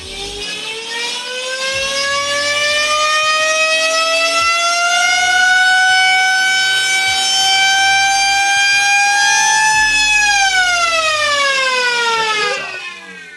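A loud homemade industrial siren winds up to a steady, piercing wail, holds its rising tone for several seconds, then spins down; nearby and alone.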